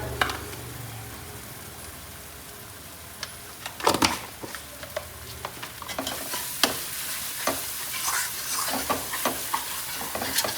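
A spoonful of red chilli powder frying and sizzling in a pan with a steady hiss, while a spoon stirs it and scrapes and taps against the pan in irregular clicks.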